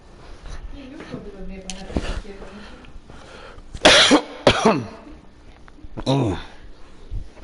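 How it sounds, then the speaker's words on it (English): Someone coughs several times in harsh bursts, close up, with a throat-clearing and some talk in between. "I was coughing."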